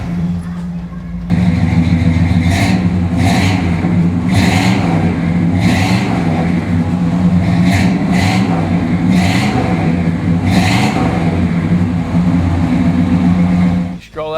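A 1967 Cadillac DeVille convertible's V8 engine idles steadily, with a low rumble throughout and rhythmic rev-like pulses rising above it, close and fairly loud.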